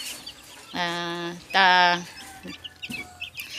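Young chicks up to one month old in a coop, peeping and clucking in two loud harmonic bursts followed by fainter chirps nearby.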